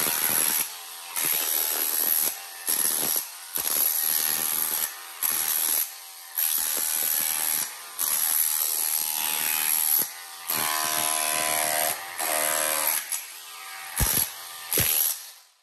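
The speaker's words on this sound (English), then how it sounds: "this is a nice hammer drill down over here" A Ryobi hammer drill runs in repeated loud bursts with a high whine and rattling grind, stopping and restarting many times, with no talking.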